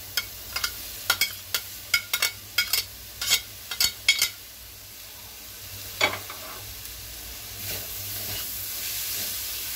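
Spring onion being stirred into soya vegetable rice frying in a pan: a run of sharp spatula scrapes and clacks over a steady sizzle, thinning out midway as the hiss continues alone.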